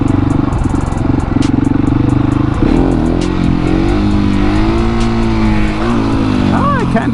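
A KTM 701 motorcycle engine revs hard and steadily for a first-gear wheelie, its loud drone rising and falling in pitch, while a voice talks over the engine noise.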